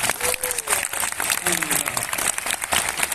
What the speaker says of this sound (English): Round of applause for the Moroccan team.